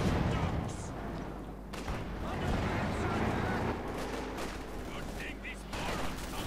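Rapid machine gun bursts and heavy impacts crackle through a Company of Heroes 2 match as a shot strikes a Panzer IV tank, the dense gunfire continuous and loud beneath steady commentary.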